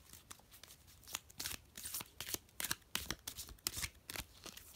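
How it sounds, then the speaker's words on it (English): Cards are shuffled close up, a rapid run of crisp riffling flicks and snaps repeating steadily for several seconds. "Let's go ahead and give this a quick shuffle"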